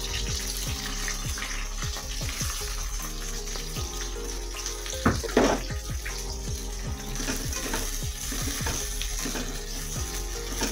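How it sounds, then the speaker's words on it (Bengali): Onions frying in hot oil for chilli paneer give a loud, steady sizzle with scraping and clinking stirring strokes, and a brief louder burst midway; no one speaks. "এবার আমি ওই তেলের মধ্যে পেঁয়াজগুলো ছেড়ে দিচ্ছি।"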